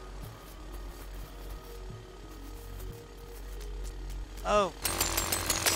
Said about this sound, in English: Don't go cross when you got a jackhammer then.